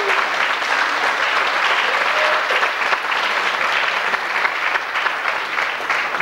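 Festival audience applauding a visiting delegation from Jekabpils, Latvia, at a religious song festival in Czerwionka-Leszczyny, 2006: dense, steady clapping from a large crowd, loud and continuous throughout with no talk over it.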